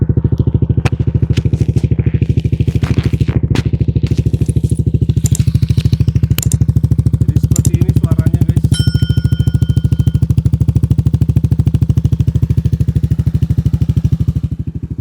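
A Yamaha Aerox turbo scooter idling through a loud Cjiro aftermarket exhaust, a steady close-up low burble with occasional clicks and clatter, no speech.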